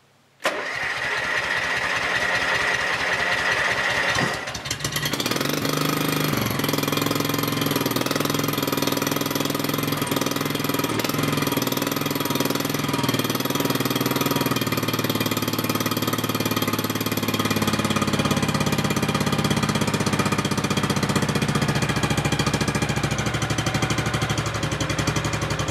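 An engine is started with the choke on while in neutral: a cranking rattle for several seconds, then it catches and settles into a loud, steady running idle nearby.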